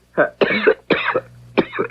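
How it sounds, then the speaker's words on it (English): Four harsh coughs in quick succession, close and loud, with short gaps between them. "How long have you had that cough?"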